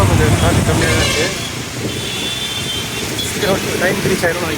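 City road traffic on the way to the Rohini theatre, with a steady roar of passing cars and engines and short horn toots sounding now and then through the noise.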